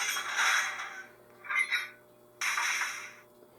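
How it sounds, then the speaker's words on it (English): A model train coupler effect: a burst of air hiss, a short metallic clank, then another longer hiss, fairly loud and close with no voices. "3 would be the sound of the couplers."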